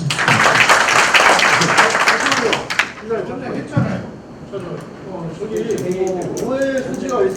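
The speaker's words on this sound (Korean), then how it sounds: "박수 한번 주시죠" Applause from the delegates at a union's regular delegates' meeting: a dense, loud burst of clapping for about three seconds that breaks off, followed by someone speaking over a quieter room.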